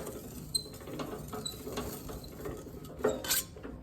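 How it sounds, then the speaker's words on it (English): A hand-cranked sheet metal bending roll curves a metal sheet fed through it, giving faint mechanical creaks and light metallic clinks with a louder clank near the end, close by and with no talking. "turn the crank and feed it through and get a curve"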